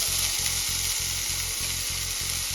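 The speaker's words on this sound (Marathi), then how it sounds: "आता हे सर्व साहित्य आपल्याला फक्त काही सेकंदासाठी फ्राय करून घ्यायचे आहे" Chopped green chilli, capsicum, green peas, beans and carrot frying briefly in oil with spluttered mustard seeds, a steady close hiss of sizzling with a faint regular pulsing hum beneath, no talking.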